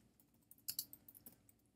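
Fast light tapping on a computer keyboard, a quick irregular run of quiet close keystrokes with a couple of sharper clicks.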